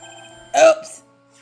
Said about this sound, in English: God damn it, whose phone is that?